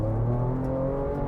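A 2023 Ford Ranger Raptor engine revs hard while the truck drives on gravel. It gives a close, steady, loud growl with a droning tone throughout.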